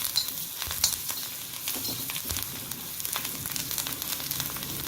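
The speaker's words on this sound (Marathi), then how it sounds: "थोडीशी कोथिंबीर यामध्येच मी टाकणार आहे परतण्यासाठी।" Fresh coriander sautéing with turmeric in hot oil for Maharashtrian pithla, a close, steady crackling sizzle with occasional stirring scrapes and pops, no voices.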